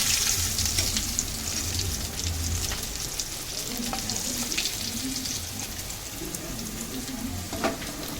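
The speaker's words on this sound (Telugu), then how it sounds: "చూడండి అన్నీ మంచిగా ఫ్రై అయినాయి పీసులు." Chicken pieces frying for chicken mandi biryani, a steady close sizzle and crackle of hot oil in a pan that continues without pause, with occasional faint stirring clicks and no talking.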